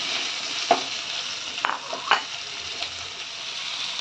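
Large onions frying in a pan for Bengali prawn curry give a steady close sizzle, with a few sharp scrapes and clicks from stirring.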